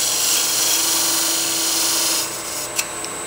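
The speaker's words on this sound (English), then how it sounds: "Now try to hold this tool a little bit more in a cutting orientation with my tool handle down." A negative rake scraper cuts wood on a spinning woodturning lathe as a tenon is shaped, giving a loud, steady whirring hum with a hissy edge that drops off partway through, followed by a brief tap.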